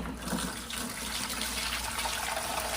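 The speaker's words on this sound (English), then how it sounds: "a bunch of water right here. It makes it easier if it is warm water." Warm water pours into a bucket holding a soil brick, a continuous close splashing and trickling that runs steadily throughout with no voices.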